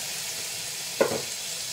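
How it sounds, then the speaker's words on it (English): Peeled, deveined, tail-off shrimp (about 12 ounces) sauté in a pan under a constant soft hiss, with one brief louder sizzle or stir about halfway through. "We are going to go ahead and saute up some already peeled and deveined shrimp that I got."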